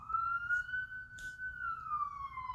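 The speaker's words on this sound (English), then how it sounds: "police sirens" A police siren wailing at a moderate distance, its single tone rising slowly then falling, over a low background rumble.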